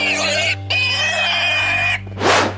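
Cartoon pig oinks and squeals in a 3D animal slide video game, loud repeated grunting calls over a steady game music drone, ending in a brief noisy burst.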